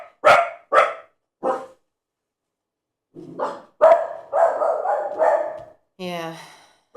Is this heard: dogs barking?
yes